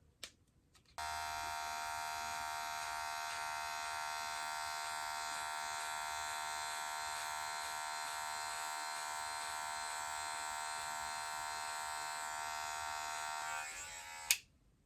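Electric hair clippers buzzing during a self-cut taper fade, switching on and holding a loud, steady, close hum for about thirteen seconds before a click as they shut off, with no talk.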